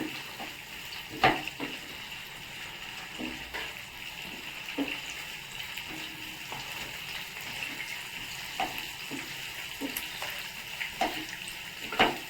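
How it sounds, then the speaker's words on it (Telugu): Potatoes fry in a pan with oil, a steady soft sizzle with occasional scraping stirs and clinks throughout. "ఒక ఆలు ఆలు కూడా బాగా ఫ్రై అయిపోవాలి"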